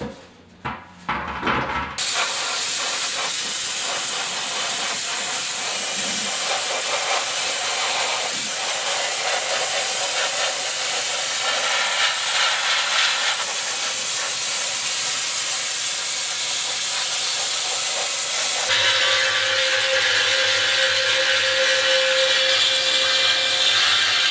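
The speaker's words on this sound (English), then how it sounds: "I'm gonna just give it a light dusting of sand, and then you don't have to worry about it." Sandblaster lightly blasting the dented steel fuel tank of a 1974 Yamaha RS 100 motorcycle outdoors, a loud continuous broadband hiss that starts after a brief pause and runs steadily, shifting tone near the end.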